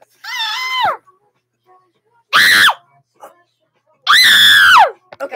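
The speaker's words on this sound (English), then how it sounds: "You have to scream with me." Several voices scream together in loud, drawn-out bursts, three separate screams separated by short pauses, the last two especially strong and piercing, with a few faint sounds between them.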